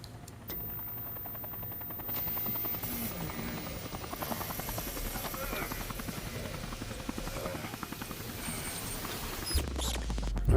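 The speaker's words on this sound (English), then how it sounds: "Alright, his helicopter is here, so he's making his escape." In a video game, a helicopter arrives for an escape, its steady rotor chop running under the game's effects, with a voice talking over it throughout.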